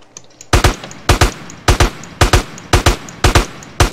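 Loud gunfire in GTA San Andreas Multiplayer deathmatch, with paired shots repeating in a steady rhythm about every half second, close and sharp with no talk over them.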